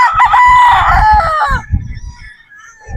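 A straight comb gamecock rooster crows loud and close, its drawn-out call lasting about a second and a half and followed by low clucking and rustling nearby.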